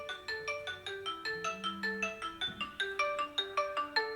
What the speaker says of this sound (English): And your phone is going to ring.